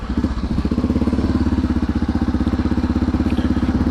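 Close, loud Suzuki DR650 supermoto single-cylinder engine running with a rapid, even thumping pulse that quickens slightly after a brief start.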